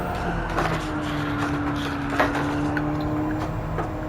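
A race car sliding sideways in Gran Turismo 7, with steady engine drone and tyre scrub running continuously throughout, plus faint knocks and clicks.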